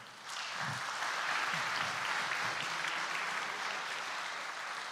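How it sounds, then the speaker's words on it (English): Audience applause at a JavaScript developer conference after a talk, a steady wash of many hands clapping that rises quickly and holds at moderate level, slightly distant. "Another round of applause."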